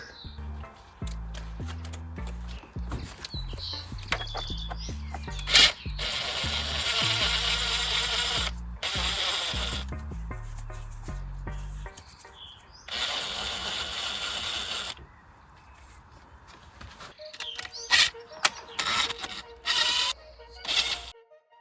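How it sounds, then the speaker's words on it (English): Intake manifold bolts being removed on a BMW E87 hatchback: bursts of ratchet clicking and whirring from a power tool, with metallic clinks and pauses between bolts, close and moderately loud. "remove these bolts here, which should be 11, all along the intake manifold from the bottom side"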